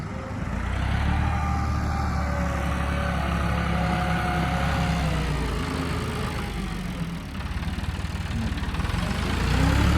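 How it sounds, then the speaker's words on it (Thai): A tractor engine runs steadily at close range, a continuous loud rumble with no talking. "จะอาศัยรถไถดันเอา"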